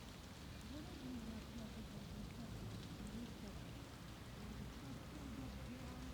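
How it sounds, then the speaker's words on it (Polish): Rain falls outdoors in Żerków, Poland, as a soft, even patter that continues without pause. It is faint and steady, with a low murmur running underneath. "Żerków przywitał mnie pogodą taką deszczową."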